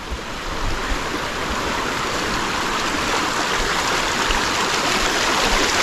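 A clear river in a tropical setting rushes and burbles steadily, a dense continuous flow of water filling the scene at close range, with no voices heard.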